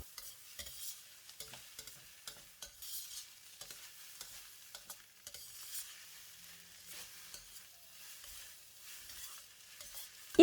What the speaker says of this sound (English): Stir to mix the fried rice for 1 minute or until evenly combined